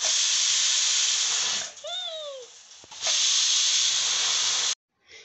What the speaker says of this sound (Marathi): कुकरला झाकण लावून 2 शिट्या काढून घ्यायच्या